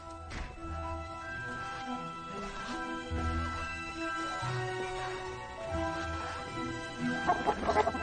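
A chicken clucks repeatedly at moderate distance in a dubbed film scene, its short calls scattered over a steady background of music.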